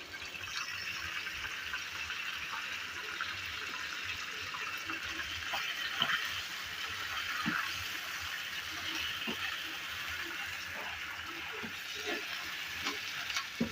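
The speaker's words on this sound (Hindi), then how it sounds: "चिकन और टमाटर को हाई फ्लेम पर 2 से 3 मिनट के लिए पकने देंगे।" Chicken pieces and sliced tomatoes fry together in a karahi over a high flame, giving a steady, even sizzle with scattered small crackles and pops, close by and with no talking.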